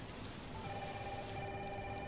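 Heavy rain pours down steadily as a dense, continuous wash of noise with no pauses, and a faint tonal hum runs underneath it.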